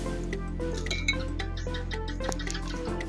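Sugar poured into a container of water during a simple science experiment, heard as light clinks and soft granular patter over a steady low background hum, close and fairly quiet.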